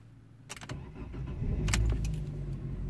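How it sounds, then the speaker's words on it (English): A 2008 Fiat Punto 1.2 petrol engine is started: keys jangle first, then a brief crank, and the engine rises into a steady, close idle. "I'm going to start the engine."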